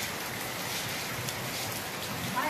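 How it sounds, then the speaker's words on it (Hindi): Steady rain hisses without a break, a dense, even wash of falling water that holds at the same level throughout. "आज पौधे भी बारिश में नहा रहे हैं"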